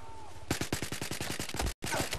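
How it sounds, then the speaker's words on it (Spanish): Automatic machine gun fire in the video game Battlefield 4, a rapid, evenly spaced burst of about a dozen loud close shots that cuts off briefly and then resumes. "Hay un enemigo con una ametralladora al este"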